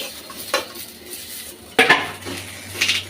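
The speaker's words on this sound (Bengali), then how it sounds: "এখন আমি এখানে বেশি করে কয়টা কাঁচামরিচ নিয়ে তেলে নিচ্ছি" Green chillies are stirred in a hot wok, giving a few sharp metallic clanks and scrapes of the spatula over a faint background sizzle, with no talking.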